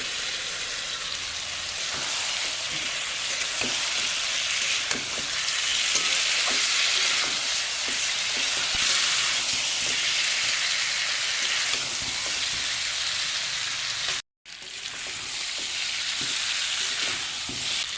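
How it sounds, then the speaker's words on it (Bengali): Chicken pieces fry in a well-cooked spice masala with cumin powder, giving a steady, loud, close sizzle with occasional stirring clatter throughout and one brief dropout near the end. "মশলাটা ভালোভাবে কষানো হয়ে গেছে, মাংসগুলো এর মধ্যে দিয়ে দেবো।"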